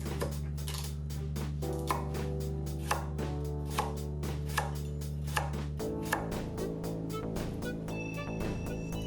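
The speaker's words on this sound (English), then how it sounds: "Next, I've got a carrot. Same deal, peel and chop." A knife chops through a carrot on a cutting board in a kitchen, making evenly spaced, crisp knocks at about one per second, heard close and alone over a faint steady background hum.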